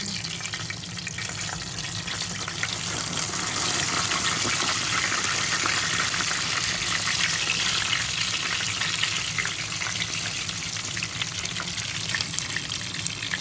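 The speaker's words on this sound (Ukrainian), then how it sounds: "Так буде йти скоріше процес смаження." Hot oil sizzles and crackles steadily and loudly as chebureki pastries fry, a dense continuous frying hiss with no voices over it.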